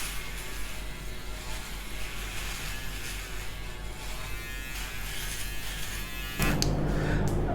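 An electric shaver buzzes steadily and close for the whole stretch, and its tone gets louder and brighter near the end as it presses against longer facial hair.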